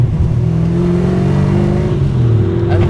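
A 1969 Chevrolet Camaro SS Pro-Touring with a 490ci engine, driven fast through corners at about 50 mph, gives a loud, steady, close engine drone with a throaty low rumble that holds throughout.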